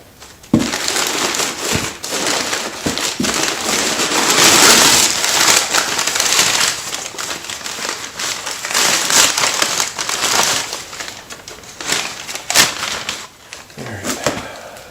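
Paper and packaging crinkle and rustle continuously up close while a rear shock tower brace for a 1979–2004 Mustang is unpacked, with sharp crumpling bursts and handling noises throughout.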